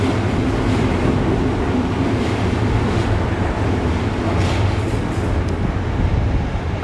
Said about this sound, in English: I'll keep talking after this train goes by